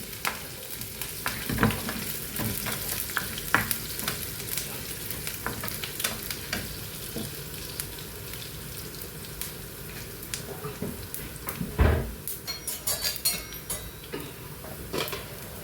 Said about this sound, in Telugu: ఇవన్నీ వేసుకొని వేగనివ్వాలండి బాగా